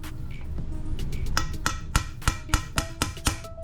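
Metal punch struck repeatedly with a hammer to drive a broken spoke remnant into a Mavic bicycle rim, a series of sharp close metallic taps at a steady rhythm, growing louder and more regular after a quieter start.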